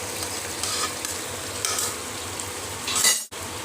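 Grated tomato frying with spice paste in a pan gives a steady, close sizzle with stirring scrapes throughout, then cuts off abruptly near the end.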